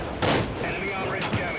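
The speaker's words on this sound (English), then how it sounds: "No problem for this cannon." A tank cannon fires in a combat video game: one sharp, loud blast near the start with a rumbling tail, then a softer thud, and no talking.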